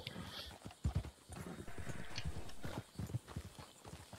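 Horse hooves clip-clop in a steady rhythm in the Red Dead video game, layered under continuous game ambience and background noise, with a voice talking throughout.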